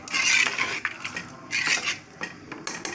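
Cooked rice for egg biryani being mixed with salt in a pot: a spoon scrapes and clinks against the pot in short, uneven bursts, close and fairly quiet.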